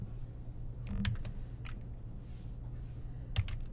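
Sparse, faint keystrokes on a computer keyboard while writing ActionScript code in Flash, a few isolated clicks against a quiet room hum.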